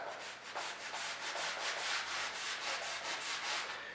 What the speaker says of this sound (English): what this is going to do is it's going to break up that sponge and allow me to rub it into the carpeted area